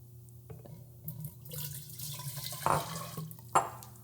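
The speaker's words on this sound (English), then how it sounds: "Now grab up boiling water and just basically wash the inside of your bowls." Boiling water splashes and trickles inside a glass jar being rinsed, with a couple of sharper sloshes and clinks of glass near the end, close by.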